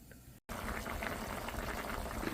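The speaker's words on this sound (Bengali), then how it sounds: "এখন কভার করে ফুলকপিটা সিদ্ধ করব" Cauliflower curry with fish, cooked with added water, bubbles and simmers under a lid in a pot. The boiling is steady and close, with a brief gap near the start.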